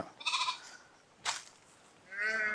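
Sheep bleating on a shepherds' grazing outing, two or three separate wavering bleats from the flock at moderate distance, with quiet gaps and a faint rustle between them.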